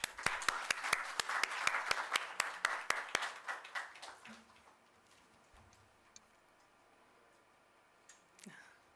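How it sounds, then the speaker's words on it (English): At a rural development conference, a modest audience claps in a short burst of sharp, distinct claps. The applause thins and fades out within a few seconds, leaving a quiet room with a few small stray noises. "let's give them a round of applause"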